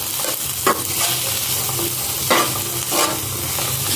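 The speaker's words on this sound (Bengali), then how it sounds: "এটা একটুখানি ভাজছি, যা মাখন আছে তাতেই কিন্তু ভাজছি।" Food frying in butter sizzles steadily in a pan, with a few scraping stirs of a spatula breaking through the constant hiss, and no talking.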